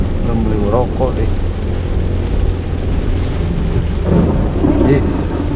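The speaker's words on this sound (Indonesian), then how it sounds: "udah petir di sini mak." Thunder rolls loudly and continuously with rain during a road trip to Dieng, heard from inside a Toyota Avanza Veloz as voices speak over the rumble.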